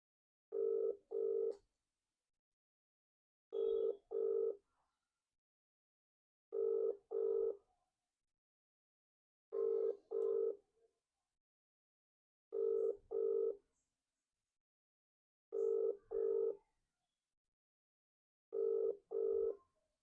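A telephone call rings out unanswered, its ringback tone repeating in steady paired bursts about every three seconds, clear and alone with silence between the rings.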